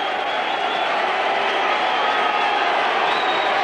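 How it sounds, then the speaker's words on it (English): Football stadium crowd from a 1989–90 match cheering in a steady, continuous roar at moderate distance, with no clear peaks, while a commentator talks over it. "I don't know what the crowd's cheering over."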